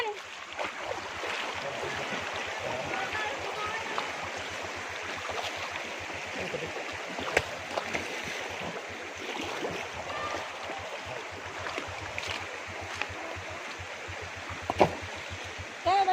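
Steady rushing of a shallow river's flowing water fills the whole stretch, with occasional knocks and faint background noises mixed in.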